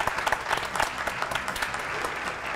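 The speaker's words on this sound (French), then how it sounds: "Applaudissements, s'il vous plaît" Studio audience at a French TV talk show applauds, a brief burst of dense, moderately loud clapping from a crowd, with no voices over it.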